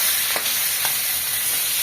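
Pangas fish fries in a pan with a loud, continuous sizzle and a couple of brief crackling spikes; no one speaks.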